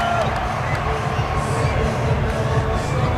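A stadium crowd at a 2013 Currie Cup rugby match between the Blue Bulls and the Cheetahs roars in a steady, sustained cheer, with a commentator's voice talking over the din.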